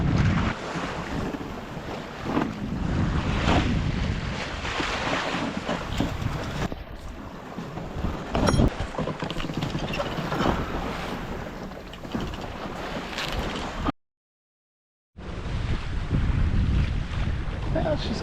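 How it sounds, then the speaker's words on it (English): Wind rushes steadily across a sailboat under sail with the reef shaken out of the main and a code 0 set, mixed with water wash and microphone buffeting, continuous and close, broken by one brief dropout near the end. "This wind kind of puffs in and goes out."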